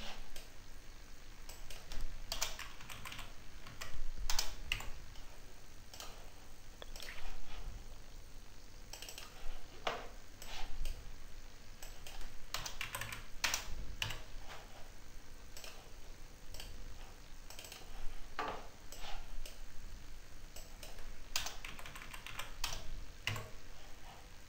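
Steady bursts of computer keyboard typing with clicky keystrokes, close and clear with no talking, as girder items are renamed in prestress load software.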